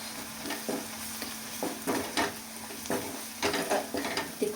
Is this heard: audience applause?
no